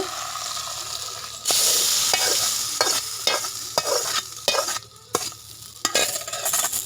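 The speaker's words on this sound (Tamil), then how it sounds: "இது எல்லாத்தையும் நல்லா கலக்கி விட்டுக்கலாங்க." Papaya stir-fry with dried red chillies being stirred and mixed in a pan, village style: a steady hiss of frying under repeated scraping strokes of a spatula, close and fairly loud, with no voices.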